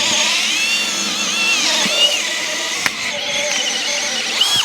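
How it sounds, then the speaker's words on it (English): A cordless drill fitted with a 25mm spade bit bores steadily into the timber of a 3x3 garden room frame, a continuous high whine that rises and dips slightly with load, close and loud, with a couple of sharp ticks. "We're using a 25mm speed drill bit in there as well."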